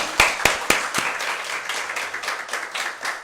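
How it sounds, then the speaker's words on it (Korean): Applause rises from a church congregation during Sunday worship, opening with a few sharp distinct claps before thickening into steady, moderately loud clapping from many hands. "하나님께 영광의 박수 올려드리도록 하겠습니다."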